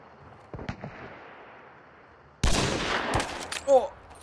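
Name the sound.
sniper rifle gunshots in a shooter video game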